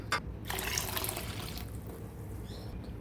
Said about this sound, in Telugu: ఏ కప్పుతో అయితే సగ్గుబియ్యం తీసుకున్నామో అదే కప్పుతో టూ కప్స్ వాటర్ వేసుకోవాలి